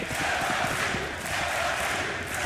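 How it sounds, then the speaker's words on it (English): An arena crowd at a Counter-Strike match between Ninjas in Pyjamas and Virtus.pro on Cache at Dreamhack Masters Malmo 2016 roars and chants, a dense, continuous wall of massed voices at steady volume. "And the crowd is back, so is NIP."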